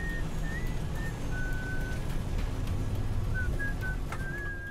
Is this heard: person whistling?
yes